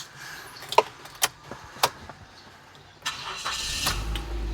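A 2013 Mazda 2 1.5 Elegance Spirit is started from inside the cabin: a few sharp clicks and key taps, then the engine catches and settles into a steady, close idle.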